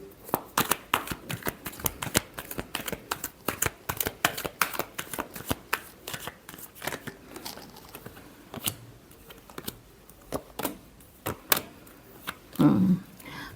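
Tarot cards shuffled by hand during a Gemini weekly reading: a steady run of quick, close riffling flutters and soft slaps, with a brief louder rustle near the end and no talking.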